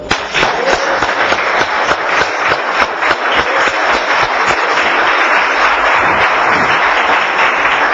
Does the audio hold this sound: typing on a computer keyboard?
no